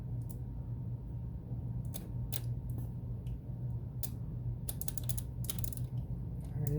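A Timberline sharpener's carbide cutter is hand-cranked against a chainsaw tooth, making a quiet series of irregular light clicks and scraping ticks over a low background hum.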